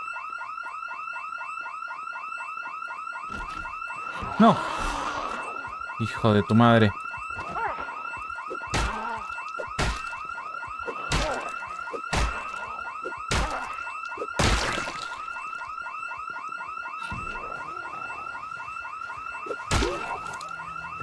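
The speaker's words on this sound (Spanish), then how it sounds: "¿Cuál es la puerta que tiene el alarma?" Car alarm in the video game Project Zomboid, a loud repeating electronic warble that keeps cycling for the whole stretch, with a player talking over it and occasional thumps.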